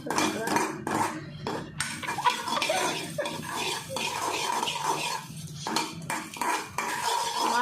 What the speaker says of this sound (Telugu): మీడియం మంటలో వేయించుకోవాలి.